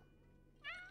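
A single short cat meow from The Sims 4 video game, rising bright and clear over a quiet background hum near the end.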